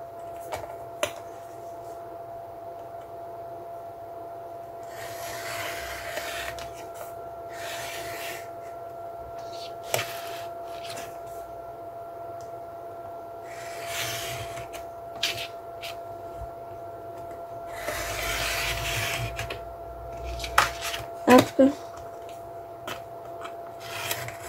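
Paper being cut over a green cutting mat for a scrapbook album makes intermittent soft rasping strokes separated by quiet pauses, close up, over a faint steady hum.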